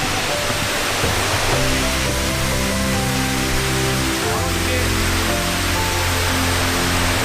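A loud, constant roar of falling water from the Iyon waterfall on the Iyon River in Israel fills the whole clip, dense and unbroken, with a low rumble underneath.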